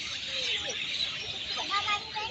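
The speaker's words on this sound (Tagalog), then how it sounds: "Pakinggan nyo guys ang huni ng mga ibon" Many birds chirp and call together from high in a tree at a playground in Singapore in the evening, a dense, steady chatter of bright tweets filling the air, with faint talk mixed in.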